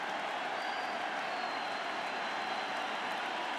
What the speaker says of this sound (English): George W.'s clapping